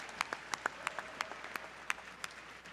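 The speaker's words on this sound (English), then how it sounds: "now it's time for one more big round of applause for all of those bidders" Scattered applause from a gala audience for charity auction bidders, a handful of separate claps spread across the moment, moderately distant and thin rather than a full ovation.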